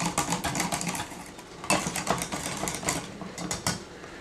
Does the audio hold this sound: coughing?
no